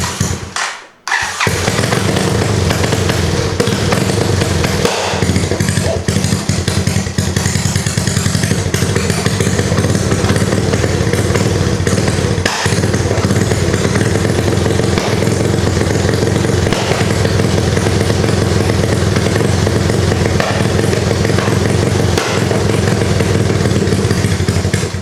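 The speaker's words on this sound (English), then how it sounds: "I don't know why I was backfiring like that" A Honda Fourtrax 200SX quad with a new CDI box starts up after a brief thump and runs loudly and steadily for about 25 seconds, with an uneven, rough engine note and no talk.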